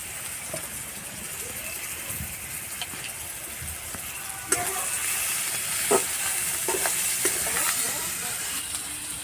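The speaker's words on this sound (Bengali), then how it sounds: "কুচি করে রাখা পেঁয়াজটা দিয়ে দিচ্ছি" Chopped onion frying in a pan for a morola fish chorchori gives a continuous sizzling hiss, with occasional stirring clinks and scrapes at close range that grow slightly louder toward the end.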